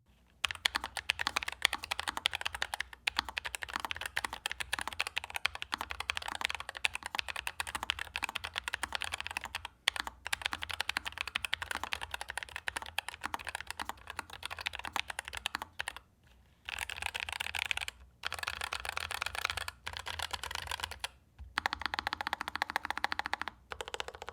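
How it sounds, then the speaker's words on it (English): Steady clacky typing on a Nuphy Air75 V2 mechanical keyboard, close up, with rapid bursts of keystrokes broken by a few short pauses, no voices. "here is a quick clip of what my keyboard configuration sounds like"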